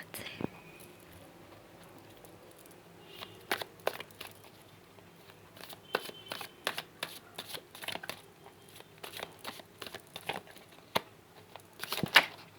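A deck of oversized oracle cards is shuffled in repeated short, papery riffles and slaps, near and soft, with quiet speech running underneath.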